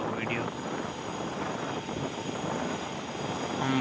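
A motorbike rides along a road lined with neem trees. A steady, loud rush of engine and wind noise runs throughout, with a voice faintly present beneath it.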